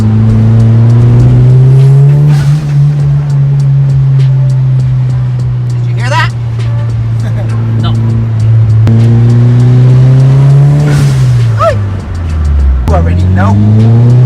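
A Mitsubishi Evo 8 with a Blitz blow-off valve driven under boost, its engine droning loudly and steadily with rising and falling revs, and brief whooshing releases standing out as it lifts off.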